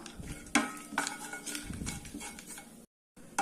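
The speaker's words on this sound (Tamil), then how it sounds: "நான் கொஞ்சமாக பாதாம் பருப்பு கட் பண்ணி வச்சுருக்கேன்" Chopped almonds roast in ghee in a pan for a ragi peanut laddu, with a spoon scraping and clinking against the metal over a soft sizzle, close and irregular, then a brief silent gap before stirring resumes.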